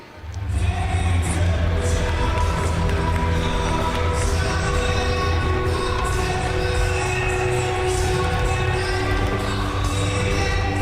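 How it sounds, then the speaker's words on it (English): A large crowd applauds and cheers steadily at the 2015 Bassmaster Classic Day 2 weigh-in in Phoenix, Arizona, a continuous roar of clapping and voices beneath a deep rumbling hum. "Big old round of applause from Phoenix, Arizona."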